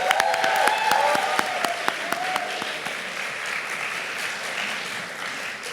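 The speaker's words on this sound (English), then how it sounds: "Give it a round of applause." Audience applause for the graduating class of 2019 at a UCSC Asian American/Pacific Islander year-end ceremony: dense, sharp clapping for about three seconds, then a softer, sustained crowd wash.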